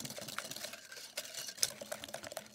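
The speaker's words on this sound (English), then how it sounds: "Cinnamon, about a teaspoon of cinnamon, and we'll whisk that in." Whisk stirring salt and cinnamon into a pie mixture in a bowl, a quick, continuous, faint clattering scrape with no voices.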